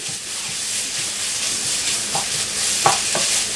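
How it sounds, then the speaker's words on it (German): Food roasting and being stirred in a hot pan for a borscht, with a steady sizzling hiss throughout and a few light scraping stirs near the end. "Und lasse den hier ein bisschen anrösten."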